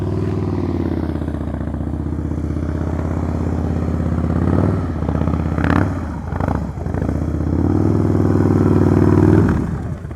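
A motorcycle engine idles and putters steadily at low revs during slow-speed riding practice, close and loud, with a brief dip and a few clattering scrapes midway before the throttle picks back up.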